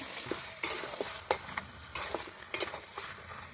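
Spiced mutton with salt and chilli being stir-fried in a pan in a village kitchen, with a steady sizzle broken by sharp, repeated scrapes and knocks of a spatula, close and clear, no talking.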